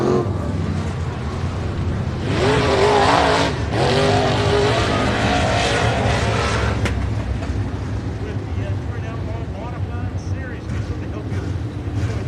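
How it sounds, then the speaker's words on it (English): Outlaw modified race cars roar past at Heart O' Texas Speedway, a loud engine surge with tire noise building and fading, followed by steady track rumble while an announcer talks over it. "Kevin Rutherford, your winner tonight in the Touring Outlaw Modified Series."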